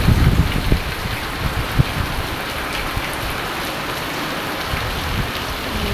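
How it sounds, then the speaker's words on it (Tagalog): Heavy rain pours down during a flooding storm, a dense steady hiss of drops striking surfaces close by, with a few louder splashes and gusts of wind buffeting the microphone early on. "Lakas ang ano, patak ng ulan"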